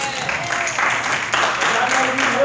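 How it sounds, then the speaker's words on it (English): A church congregation bursts into steady hand-clapping applause, a dense, continuous wash of claps with voices mixed in. "Come on, give the Lord a hand clap."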